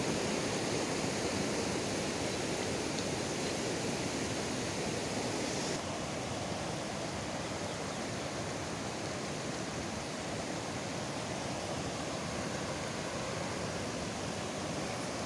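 Steady rushing of a river in the forest, broadband and continuous with no gaps, loud and close, without voices; a slight change in tone partway through.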